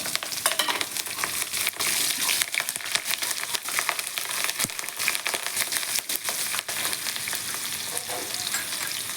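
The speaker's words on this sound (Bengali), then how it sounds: "এবার দেবো ওটা কাঁচা লঙ্কা, শুকনো লঙ্কা ফোড়ন, কাঁচা লঙ্কা," Whole cumin with green and dried chillies tempering in hot oil for a chicken kosa crackles and spits loudly and continuously, with dense sharp pops up close and no voices.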